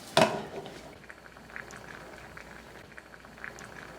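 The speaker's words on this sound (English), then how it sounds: "And then you have the beans cooking as well. Nice slow little simmer right there." Beans simmering slowly in a cooking pot for vegan chimichangas, a soft steady bubbling and faint popping heard close by after a brief clatter at the start, with no talking.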